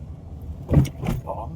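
A Suzuki Alto rolls over speed bumps, giving a couple of dull, heavy thumps from the suspension over a low cabin rumble.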